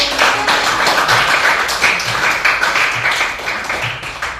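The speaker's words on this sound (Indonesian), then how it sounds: "kasih tepuk tangan dulu untuk" Classmates give steady, dense applause at the end of a school presentation, a continuous crackle of many hands clapping at moderate loudness with no clear voice on top.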